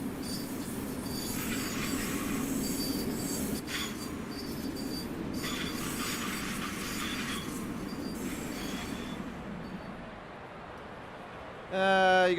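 A Long Island Rail Road train rumbles steadily past in the Train Sim World game, with wheels squealing in bursts and a low continuous roar that fades toward the end.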